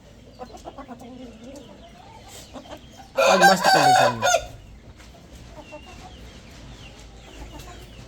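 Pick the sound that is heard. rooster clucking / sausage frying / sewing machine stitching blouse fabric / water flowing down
rooster clucking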